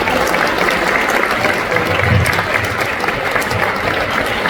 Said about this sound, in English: Please make some noise for Jack.